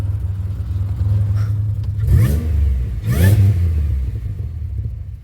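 A 2007 Pontiac Grand Prix engine idles with a steady low rumble after a swap back to 42.5 lb Lucas fuel injectors, rising in two brief revs before settling back to a smooth idle.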